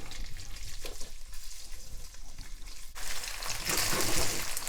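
Beef frying in a pan of neutral oil, spread apart for stir-fried beef and broccoli: a steady close sizzle that suddenly grows louder and brighter partway through, with no talking.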